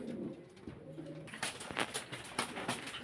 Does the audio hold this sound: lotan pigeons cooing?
yes